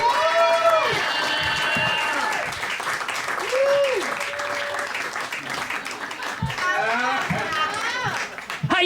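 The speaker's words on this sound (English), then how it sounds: "Get those claps going, everybody," A comedy club audience claps and cheers steadily for comedian Chase Freely as he is brought on stage, the loud applause running under an announcer's excited voice.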